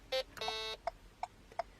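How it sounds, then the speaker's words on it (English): A car indicator bleeper on a vehicle adapted for a quadruple amputee driver sounds a longer tone, then a sustained buzz, followed by three short evenly spaced bleeps, close and clear. "2 beeps is actually a left indicator, so if I press it and hold it for 2 beeps, my left indicator will then be going."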